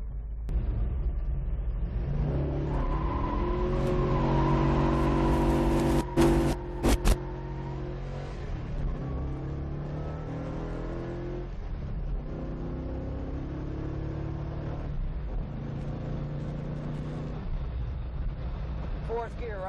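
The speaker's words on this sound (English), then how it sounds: "Here, I'll come to a dead stop and run it through its 5 gears." An old Ford Mustang with a 5-speed conversion pulls away from a dead stop and climbs through its gears, its engine rising in pitch, dropping at each shift and then rising again, with a person talking over the engine.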